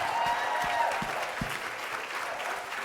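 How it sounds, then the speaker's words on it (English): An audience at a pet blogging awards ceremony applauds an award winner, a steady mid-level clapping that holds for several seconds with a few sharper nearby claps at the start. "Let's give her a big round of applause."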